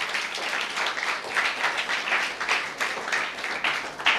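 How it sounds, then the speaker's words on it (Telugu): Loud, dense clapping from a church congregation at a sermon, sustained across the whole stretch with slight surges, no talking over it. "ఒక్కసారి గట్టిగా చప్పట్లు కొట్టండి"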